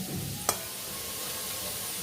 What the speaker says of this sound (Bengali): দেখো কেমন ভাজা হচ্ছে আলুগুলো